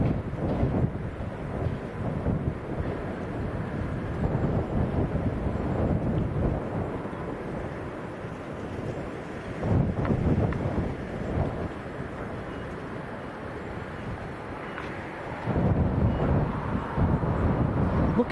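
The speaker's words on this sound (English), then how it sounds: "The wind's pretty much straight across the runway at the moment." A strong 40 mph crosswind roars steadily across the runway at Leeds Bradford Airport, a loud, continuous rumble of wind buffeting the microphone with brief gusty surges and no clear speech.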